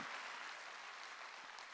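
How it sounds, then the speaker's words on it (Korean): Congregation clapping during a Wednesday evening church service, a dense, steady round of applause from many hands, somewhat distant and filling the whole moment. "박수로 하나님께 영광을 돌려야 될 거 아니에요."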